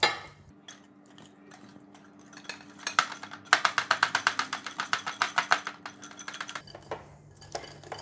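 Lemon juice whisked into a homemade salad dressing, the whisk clicking rapidly and rhythmically against the bowl, building to a dense run of close metallic taps mid-way before easing off.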